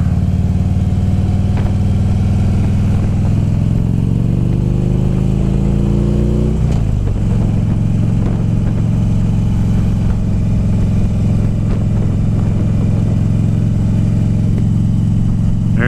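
A motorcycle engine is heard while riding, picked up by a helmet-mounted microphone, a loud constant drone that rises as the bike accelerates, drops at a gear change, then holds steady with wind rumble.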